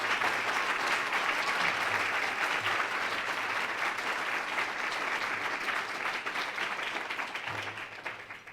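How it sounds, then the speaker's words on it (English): Audience at an anniversary event giving a round of applause, dense steady clapping that holds evenly and tapers off near the end, with no talk over it. "give Sylvia a round of applause"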